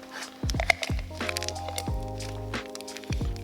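A packet of grease is squished back flat by hand, giving soft, wet squelching and crinkling sounds in a few short, close bursts during a BMW E46 AWD driveline service.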